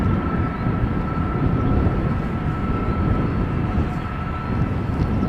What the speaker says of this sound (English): there's the next A330 is from KLM, is also coming this way